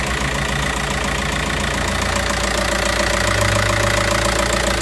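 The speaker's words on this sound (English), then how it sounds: "The engine's nice and sweet." Car engine idling under the open bonnet, heard up close as a loud, steady mechanical hum with an even low throb and no voices.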